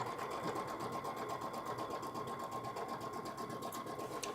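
A sewing machine runs steadily, stitching a straight, short seam in one continuous whir with a bright mechanical hum, loud and close and with no talk over it.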